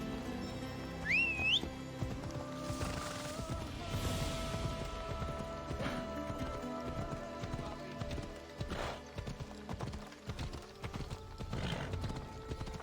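A horse in the video game Assassin's Creed Odyssey clops along at a steady rhythm while a whinny and a whistle rise early on, against ambient game sounds.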